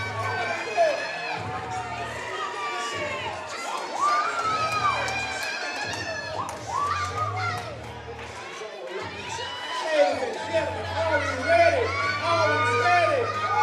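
A karate tournament crowd with young supporters cheering, whooping and shouting in loud bursts, rising and falling across the stretch, with a deep steady hum underneath.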